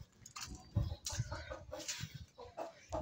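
A rooster clucks in short, scattered bursts at low volume, with faint patter and other farmyard sounds around it.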